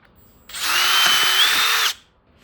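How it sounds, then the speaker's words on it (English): A power drill boring a hole into a motorcycle crash bar, one loud continuous high whine lasting about a second and a half with a slight pitch rise near the end, close up and alone. "So I'm just gonna go ahead and drill a hole on it, and then we'll have two lining up right there."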